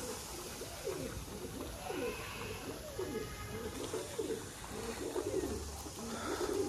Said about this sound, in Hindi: बहरहाल वहाँ पे एक और भी कबूतर आके बैठा है अभी